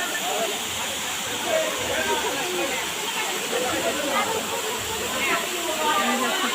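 Yedshi waterfall pours down in a broad, steady roar of falling water, a constant hiss heard nearby and unbroken throughout.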